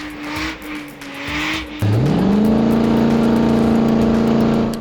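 A Trent Fab solid-axle off-road race car roars past loud and close, its engine note rising and then holding a steady high drone, with tire noise mixed in at the start.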